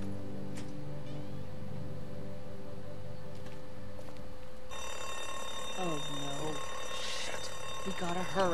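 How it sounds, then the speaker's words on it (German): Electronic alarm system going off in a video game, a harsh pulsing tone that swells louder midway and keeps sounding over background noise, with muffled voices and other noises mixed in. "Warum die Alarmanlage?"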